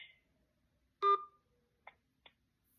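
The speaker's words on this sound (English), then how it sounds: "Please press 1 to leave a voicemail message." A telephone keypad tone sounds once during a call, a short two-note touch-tone beep for the key 1, followed by two faint, brief electronic blips in a quiet line.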